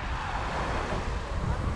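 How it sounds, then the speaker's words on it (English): Wind blows strongly across choppy sea water near a St. Thomas beach, a steady loud rush with microphone buffeting and no clear breaks. "It's choppy today because it's pretty windy"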